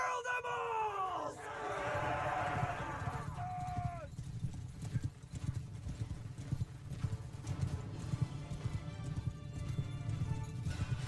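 In a video game battle against bandits, a group of horses gallop with a dense, continuous clatter of hooves, and a shrill neigh cuts in early over a clamouring crowd of fighters.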